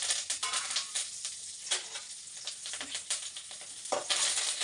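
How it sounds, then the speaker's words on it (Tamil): Urad dal, mustard seeds, curry leaves and dried red chilies crackling in hot coconut oil, a close, bright continuous sizzle with popping bursts and stirring scrapes, no talk. "இப்போ உளுந்து கடுகுலாம் நல்லா பொரிஞ்சு"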